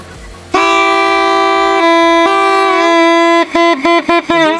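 Homemade train horn built for 5 rupees, tested with a loud sustained blast that shifts pitch partway through, then breaks into a series of short, sharp toots at the end.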